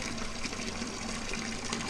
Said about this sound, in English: And that's how we fill her up. Just a regular hydrant.